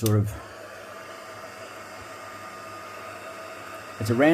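A heat tool blows a steady, close whooshing stream of hot air from underneath a card to emboss it, bracketed by short bursts of talk at the start and end.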